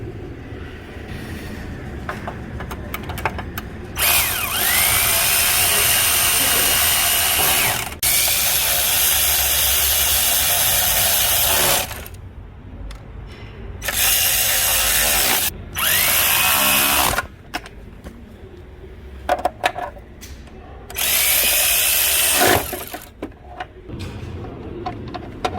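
Power tool with a ratcheting mechanism tightening bolts on a bracket-holding block and upper mounts, in several loud bursts of a few seconds each separated by quieter clanks and handling noise.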